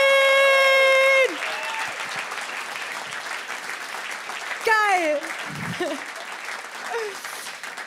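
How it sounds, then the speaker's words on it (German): At a Berlin comedy show, the audience breaks into loud applause that continues for several seconds, mixed with cheers and a shouted exclamation, after a brief sustained tone at the start. "Riesen Applaus für"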